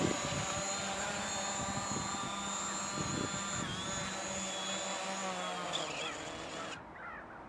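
DJI drone hovering close by with a steady high-pitched whining buzz of its propellers, loud and continuous, then cutting off sharply near the end as it lands and powers down.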